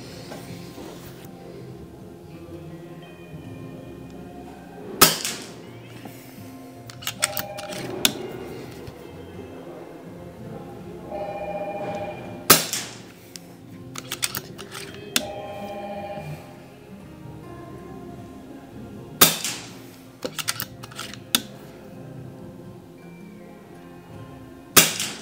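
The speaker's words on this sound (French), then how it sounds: "Donc on va tirer 5 plombs comme ça" An air rifle fitted with a PARD DS35 LRF scope firing pellets at a target, about five sharp, sudden cracks spread several seconds apart, with mechanical clicks and handling noises in between and no talking.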